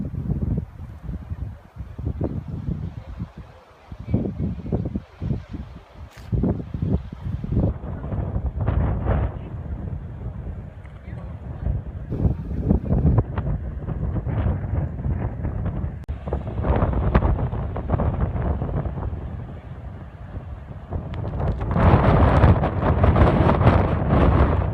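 Strong wind buffets the microphone outdoors at the Giant's Causeway, a continuous loud roar with gusty surges that grows rougher and heavier toward the end.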